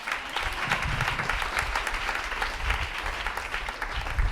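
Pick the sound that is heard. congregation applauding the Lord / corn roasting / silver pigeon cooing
congregation applauding the Lord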